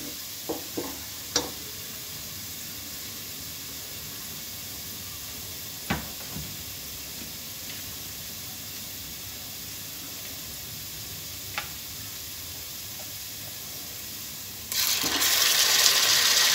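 Onions and meat for palak gosht sizzle steadily in a pan, a continuous frying hiss with a few sharp clinks of a stirring utensil, growing louder near the end as the sizzle intensifies.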